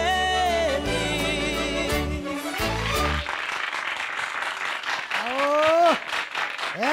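Music on a sertanejo television programme ends, and the studio audience breaks into applause that swells over the fading song, with a singing or speaking voice rising over the clapping near the end.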